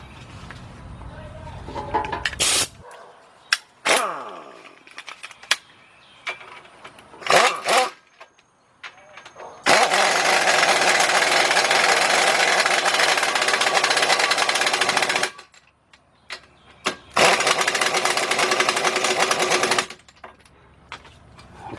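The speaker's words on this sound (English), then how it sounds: "Let's get our air gun over here." A pneumatic air impact gun tightens a 19mm bolt during a partial engine rebuild on a 2003 Nissan Maxima GLE 3.5, rattling in short bursts and then in long, loud hammering runs, with quieter workshop clatter between.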